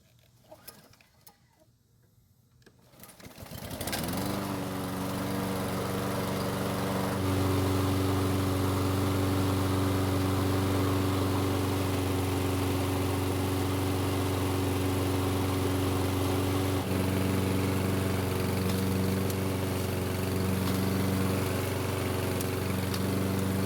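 A Toro lawn mower, overfilled with oil and with a clogged air filter, sits quiet before its engine catches after a few seconds, then settles into a loud, steady running drone that continues throughout without any talk.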